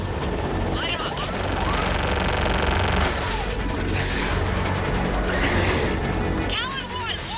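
Mass Effect 3 air support strike: continuous loud gunfire and explosive booms roll through a dense battle din, with a voice talking over the barrage.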